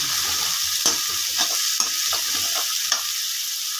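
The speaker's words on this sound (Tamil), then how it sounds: "நல்லா பொன்னரமாக வதக்கணும் வெங்காயம்." Chopped onions sautéing in a pan for kaima idli, a close, steady sizzle broken by light scraping strokes of stirring every half second or so, with no one talking.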